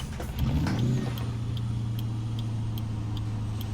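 A passing car in American Truck Simulator rises from about half a second into a steady, close engine drone that holds to the end. No one speaks.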